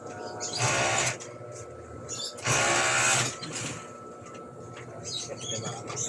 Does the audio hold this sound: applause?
no